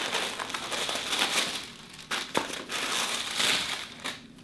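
Chanel packaging paper being unwrapped close up, a burst of loud crinkling and crumpling rustles with short pauses between handfuls.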